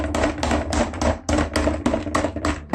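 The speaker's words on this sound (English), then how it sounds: "Quick, hammer it again!" Toy hammer striking a chocolate surprise egg, a rapid run of about ten sharp knocks in quick succession, close and loud.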